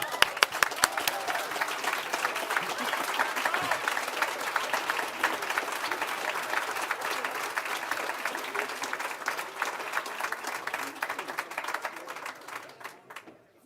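Audience at a keynote session applauding, many hands clapping in a steady wash with a few sharp nearby claps at the start, holding for several seconds and then dying away.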